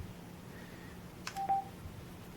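Zoeao Gravastar Bluetooth speaker giving a short electronic beep tone as it enters pairing mode, a brief near alert heard alone against quiet room hiss.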